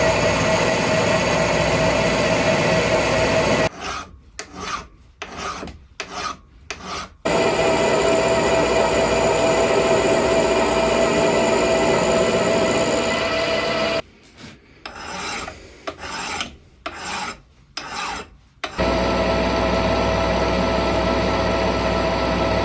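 A milling machine cutter traverses with the axis locked on a rotary table, a loud continuous rasping grind broken twice by bursts of stuttering on-off cutting, then resuming its steady drone, close and alone.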